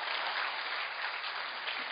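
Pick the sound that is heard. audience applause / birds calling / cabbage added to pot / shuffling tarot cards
audience applause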